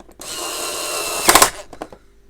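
A power driver sets a screw into the top housing of a Hoover Turbopower Junior U1220 vacuum cleaner: one short close whine that ends in a few sharp clicks and a rattle.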